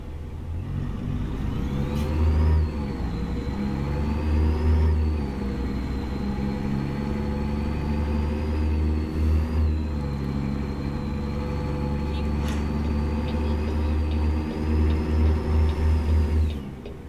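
In American Truck Simulator, a truck's engine brake makes a sustained rumbling drone with a whining overtone, steady for about seventeen seconds and rising in surges. No voices are heard.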